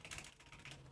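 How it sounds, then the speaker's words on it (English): Soft, rapid keystrokes on a computer keyboard, a brief burst of light clicking taps, quiet and close. "I'll type it out for you because I'm typing and such."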